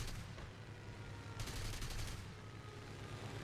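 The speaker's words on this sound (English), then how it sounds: "Let's try and kill him with guns, though." Aircraft machine guns firing in the War Thunder air combat game, a dense continuous burst of rapid gunfire with a sharper, louder stretch in the middle, no talk.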